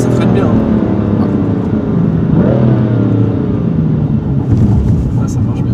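A BMW M3 F80 Competition in Java Green, exhaust valve open, rumbles steadily through a drive with a droning engine note that swells and eases, while people talk over it from inside the car.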